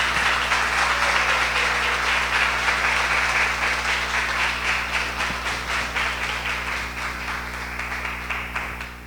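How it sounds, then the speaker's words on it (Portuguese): A church congregation applauds steadily at a Christian conference, dense sustained clapping that fills the room and fades slightly toward the end. "Vamos aplaudir a Jesus."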